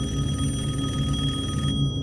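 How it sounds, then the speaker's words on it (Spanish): Telephone ringing insistently, a steady pulsing electronic trill that repeats in quick bursts, loud and alone before cutting off near the end. "Solo se escuchaba sonar el teléfono."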